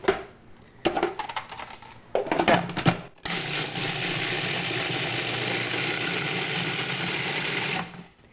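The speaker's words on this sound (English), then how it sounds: "I'm going to place them into my food processor. And then I'm going to grind it down into a flour." A food processor grinds oats into flour, first in a few short pulses and then in one loud, continuous high whir running steadily for about five seconds before cutting off.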